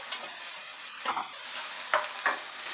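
Chopped tomatoes and fried onion cooking in a pan over medium heat, a steady close sizzle broken by a few scraping stirs, with no voices.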